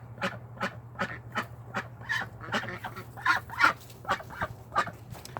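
A flock of farmyard ducks, including one drake among the hens, honking and quacking in a steady run of repeated calls, close and fairly loud over a low constant hum.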